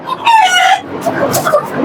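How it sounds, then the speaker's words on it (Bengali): An Australorp rooster crows nearby, loud and short, followed by clucking and other fowl noises. "আমার এখানে আছে অস্ট্রেলিয়া মোরগ গুলো"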